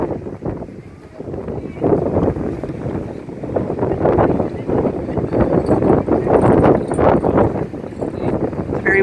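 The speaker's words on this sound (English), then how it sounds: "It's very windy here." Strong wind buffets and roars in uneven gusts throughout, a rough blustery rumble with no voices.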